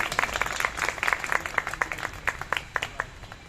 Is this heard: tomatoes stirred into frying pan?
no